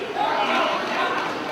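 Arena crowd at an independent pro wrestling event roars in a steady, dense wash of cheering and shouting, loud and continuous with no single voice standing out.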